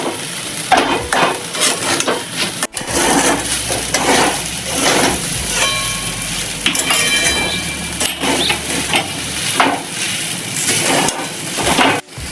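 Sabudana khichdi fries in a pan while a spoon stirs and scrapes it, giving repeated close scraping strokes over a steady sizzle, with a couple of sharp knocks against the pan.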